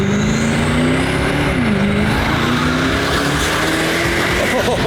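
Koenigsegg Agera supercar driving hard, its engine droning steadily and loudly throughout with a rising and falling pitch, while a tire squeal cuts in partway through.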